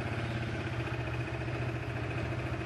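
A kick-started motorcycle engine idles steadily up close, a constant mid-pitched chugging hum with an even rhythm and nothing else over it.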